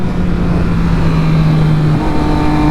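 A new motorcycle leans into a turn, its engine a loud, steady drone with strong wind rush. The engine tone shifts slightly partway through, and no one speaks.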